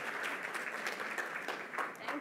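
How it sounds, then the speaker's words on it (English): Conference audience clapping as a speaker is welcomed to the stage for an afternoon talk on employee culture, brisk continuous applause with scattered sharp claps, fairly close and steady. "Please, everyone, big round of applause for the afternoon for Linda."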